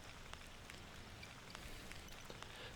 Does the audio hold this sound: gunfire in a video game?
no